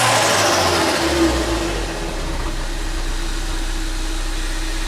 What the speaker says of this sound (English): Give a donut! It's like struggling to spin those tires.